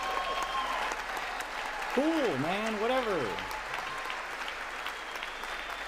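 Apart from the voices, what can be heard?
applause in Congress during State of the Union address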